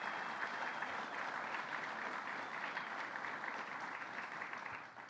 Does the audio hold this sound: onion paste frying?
no